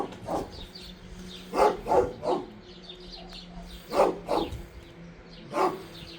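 A dog barks in short bursts of two or three, several times, fairly close, over a low steady background hum.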